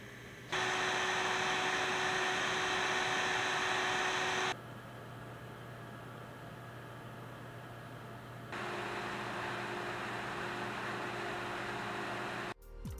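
A modded cooler fan on a Radeon 4870 graphics card spins at about 3200 RPM under load. It makes a steady, loud whooshing whir that drops to a lower level midway and then rises again.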